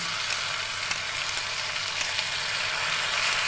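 A spice paste of poppy seed, tomato and ginger sizzles steadily in hot oil as it is added to frying potatoes for a yogurt aloo dum, making a close, continuous hiss with no talk.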